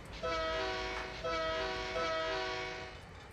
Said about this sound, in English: You really hear that horn no matter where you're at.